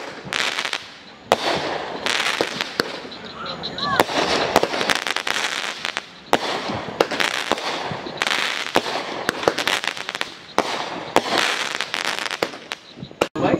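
Fireworks mortars going off at a Fourth of July gathering by a dock, with repeated sharp booms and crackling bursts, some near and some distant, while people talk between blasts.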